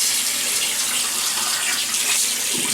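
Water running steadily from a tap into a sink before shaving, a continuous close splashing hiss with no talk over it.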